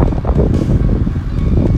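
Steady roar of wind buffeting the microphone, with low rumbling gusts swelling and easing throughout, during a supercell thunderstorm by a roadside in western France.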